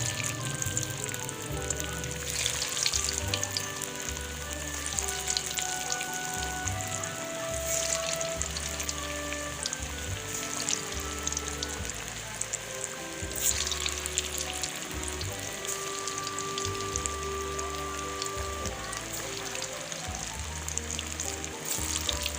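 Cauliflower and onion koftas deep-frying in hot oil give a steady, close sizzle and bubbling that runs throughout, with a few soft low knocks in the background and no talking.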